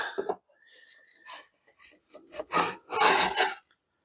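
A low budget shoulder plane is pushed through regular wood in a rabbet, giving a few rough, rasping scrapes that build into a loud, heavy cutting burst, with a short pause between strokes.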